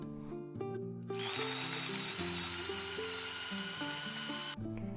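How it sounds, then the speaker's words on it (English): A USB rechargeable electric vegetable chopper running with a steady motorized whine that shifts pitch in steps as the load changes, close and continuous, cutting off abruptly near the end. "Just add vegetables to the bowl, secure the lid and press the on button."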